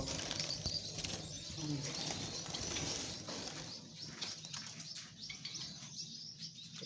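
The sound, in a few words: Java sparrows fluttering and calling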